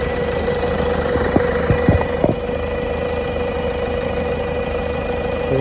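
A Hyundai i30 with the 1.6 CRDi diesel engine idles with a steady droning hum near the fuel filter housing, where a faint strange noise sits, with a few soft knocks early on and no talking.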